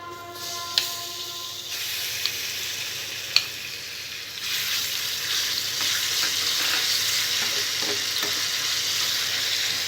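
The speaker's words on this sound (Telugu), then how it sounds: "తాలింపు బాగా ఫ్రై అయిన తర్వాత ముందుగా నూరుకున్న పచ్చడి వేసుకోవాలి." Ground chukkakura (sorrel) and mint chutney added to a hot pan of fried tempering, with light clinks at first and then a steady, loud sizzle and hiss that builds and holds with stirring.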